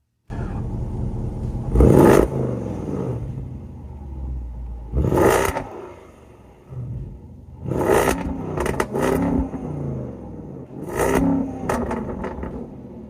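A Land Rover Defender 90 Carpathian V8 engine revs hard four times in close succession, each blip rising and falling with a deep rumble and crackling pops, with idle in between.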